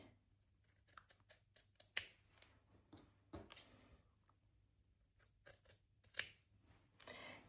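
Fabric scissors trimming the seam allowance of sewn pieces down to a few millimetres, a series of faint close snips and crisp cuts in irregular bursts against a quiet background, with no talk.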